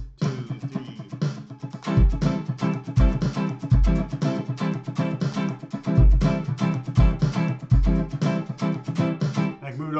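An acoustic guitar plays a fast sixteenth-note strumming groove shifted one sixteenth off the downbeat. The dense, rhythmic strums are close and loud, with accented low hits recurring through the pattern.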